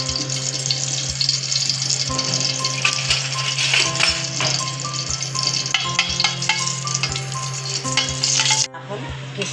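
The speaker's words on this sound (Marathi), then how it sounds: "त्यात आता मी 1 चमचा तूप टाकणार आहे" Ghee heating and frying in a pan on a gas stove, a continuous sizzle and crackle with clinks and taps of utensils, plus a steady hum underneath that cuts off near the end.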